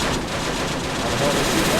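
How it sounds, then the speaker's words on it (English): Anti-tank gun fire in the WWII strategy game Men of War: Assault Squad, a loud, dense, sustained barrage of booming shots and crackling gunfire with no pauses. "they got an AT gun that can fire that far"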